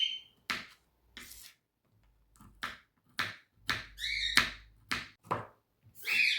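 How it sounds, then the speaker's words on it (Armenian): A knife chops walnuts on a board in sharp, irregular knocks, some single and some in quick pairs, close and clear with short pauses between strokes. "Հիմա ընկյուզն էլ մանրացնեմ, լցնեմ հավի կրծքամսի վրա։"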